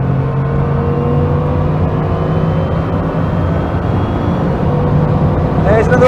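A Bugatti Chiron supercar with a W16 engine accelerates flat out beyond 200 mph. A loud, steady roaring drone fills the cabin with deep rumble, and the pitch starts climbing near the end.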